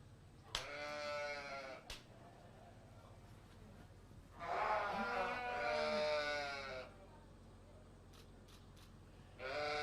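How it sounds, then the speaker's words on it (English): Sheep at a livestock show give several loud, wavering bleats, a short one near the start and a longer drawn-out cry in the middle, with faint show-ring background noise. "Go ahead and bring that blue sheep out next."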